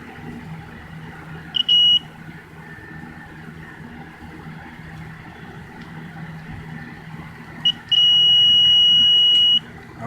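A multimeter gives two sharp electronic beeps during a continuity test on a Honda Shadow motorcycle stator. The first is brief and the second is held for nearly two seconds, both close and clear over a low background hum with no speech.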